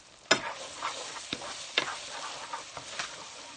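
Ingredients for a vegan pot pie are stirred in a pan, giving soft scraping and clinking taps at an irregular pace over a faint sizzle, close and fairly quiet.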